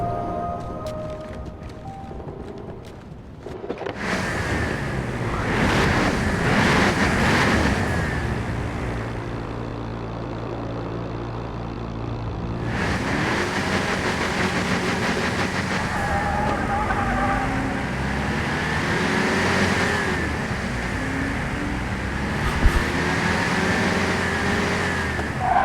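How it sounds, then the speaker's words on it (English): Homemade engine sound effect for the Halo Warthog vehicle: a continuous, loud motor drone that revs up and down, with a sharp rise early on and another surge midway, sustained throughout with no talking. "I thought I'd try to make my own Warthog engine sound effect"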